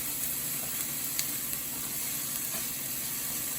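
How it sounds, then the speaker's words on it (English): Oil with garlic and onions sizzling in a pot, a steady even frying hiss with occasional small pops and crackles, fairly quiet and uninterrupted by speech. "So I got my oil in my pot, nice and sizzling."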